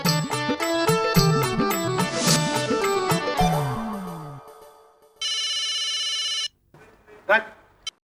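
A telephone bell rings in a steady burst after a stretch of background music, with a short faint noise following near the end.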